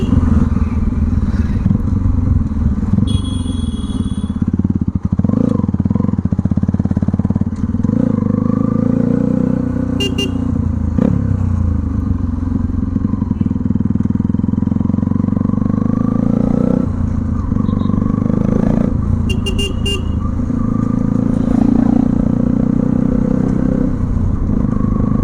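A modified 2013 Bajaj Pulsar NS200 motorcycle rides steadily, its engine droning loud and continuous throughout, with occasional revving swells and brief clattering thumps from the road.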